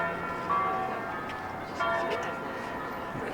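Church bells ring on a Sunday in Turin, two distinct bell strikes at a distance over faint city ambience and a voice speaking.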